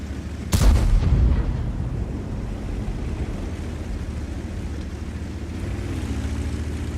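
A single deep tank cannon shot fired blind in World of Tanks, a loud, close boom with a rumbling tail, followed by steady engine drone.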